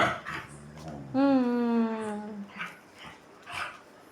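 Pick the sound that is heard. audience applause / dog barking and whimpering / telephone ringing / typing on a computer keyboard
dog barking and whimpering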